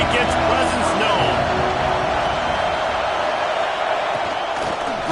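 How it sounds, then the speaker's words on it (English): Stadium crowd roar in a college football video game, Texas Tech at Oregon, a steady dense wash of cheering that fills the whole stretch at constant loudness under a commentator's voice. "This crowd ready to make its presence known."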